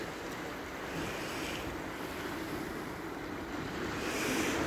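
Slow, languid waves wash onto the shore at Kinghorn on a day with very little wind, a steady, close surf roar with gentle swells building slightly toward the end, no voices.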